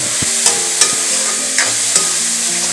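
Oyster mushrooms sautéing in a hot pan, a steady close sizzle broken by a few sharp scrapes and clinks of stirring, no voices.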